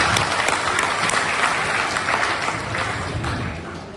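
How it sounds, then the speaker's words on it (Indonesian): Dense applause from a large audience at an orientation event for civil servants, steady clapping that fills the room and tapers slightly toward the end, with no talk over it. "Tepuk tangan."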